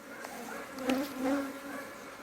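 Honey bees buzz softly around an open hive frame during an inspection, a low steady hum with a few louder passes close by, with no talking.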